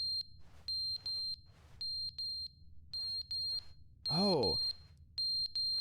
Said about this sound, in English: It's like the fire alarm? How is that still, like, charged?